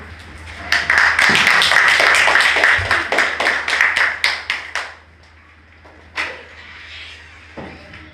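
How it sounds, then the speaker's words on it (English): A crowd at a project launch event gives a dense, lively round of applause for about four seconds. It then thins out to a few scattered claps and fades. "Let us give her another round of applause."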